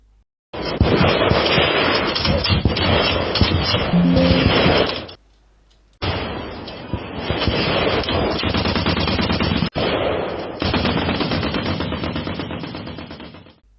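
A Quad 50 heavy machine gun mount with four .50-calibre barrels on an M16 half-track fires in long sustained bursts, three loud continuous roaring strings of rapid shots separated by brief pauses.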